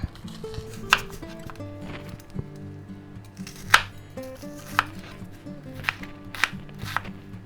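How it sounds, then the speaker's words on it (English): A knife slices ham on a cutting board, giving a series of sharp, irregular taps and knocks close by, with no talking. "And we'll go ahead and slice this up."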